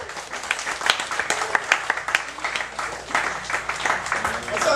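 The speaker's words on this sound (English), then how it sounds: "Round of applause, everybody." A comedy club crowd at a pub applauds a comic taking the stage, dense clapping with scattered whoops rising and falling steadily for several seconds, close and lively.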